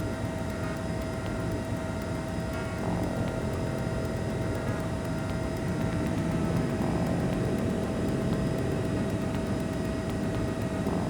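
A jet aircraft's engine roars at a constant level throughout a takeoff in a DOS flight game played on a Pentium III laptop, a flat, unchanging synthetic drone with a steady tone on top.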